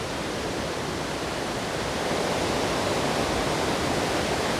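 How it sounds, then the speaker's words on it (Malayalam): A river flows below a suspension bridge near Ezharakund waterfalls in the Paithalmala valley of North Kerala, a steady, dense rushing roar of water that fills the whole clip, close and unbroken, with no talk. "ഇവിടെ നിന്നാണ് ചെറിയ അരുവി വരുന്നത് കേട്ടോ. അരുവിയല്ല, ഇപ്പോഴിത് പുഴയാണ്."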